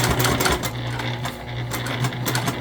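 A sewing machine top stitches vinyl for a key fob wallet, a close, steady rapid mechanical chatter that runs without pause.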